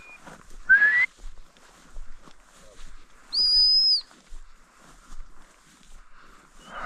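During a quail hunt near Ninotsminda, a whistle call sounds: a short rising whistle early on, then a longer steady high-pitched blast, with quiet outdoor background and faint rustling between.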